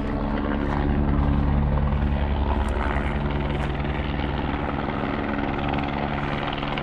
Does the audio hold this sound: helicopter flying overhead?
yes